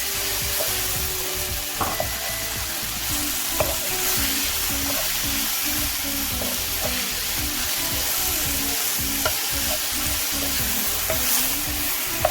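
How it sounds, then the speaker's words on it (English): Onions sauté in a pan for a chickpea chana dish, with a steady close sizzle and repeated rhythmic scraping and tapping of a spoon stirring the pan throughout. "Now after 2-3 minutes, the onions have softened up quite a bit"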